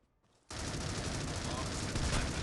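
Gunfire in the mobile shooter Critical Ops during a ranked match, a dense continuous burst starting abruptly after a brief quiet moment and staying loud to the end.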